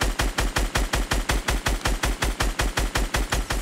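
Rapid automatic gunfire from the Fortnite video game (Chapter 1 Season 7), a steady burst of evenly spaced loud shots repeating about five times a second, alone without talk.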